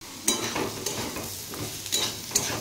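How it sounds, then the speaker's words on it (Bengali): Potatoes fry in a home kitchen pan, a steady sizzle broken by several sharp scraping stirs of a spatula against the metal, close and loud with no talking. "আর আমি ভাজছি আলু"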